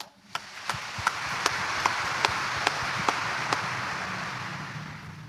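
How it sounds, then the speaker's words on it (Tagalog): Congregation clapping during a Friday Mass at Quiapo Church: sharp, evenly spaced claps, about two per second, cut through a faint, steady room murmur at a moderate distance. "Pumalakpak nga yung gusto maging masaya."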